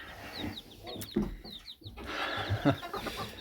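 Chicks peep in high, scattered chirps around a mother hen, who gives a few soft, low clucks nearby.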